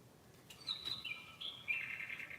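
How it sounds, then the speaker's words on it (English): A small bird chirps and trills nearby in a quiet indoor setting during a scrapbook crafting session, a few bright tweets rising into a longer warbling call over faint room hiss. "I hear you, bird."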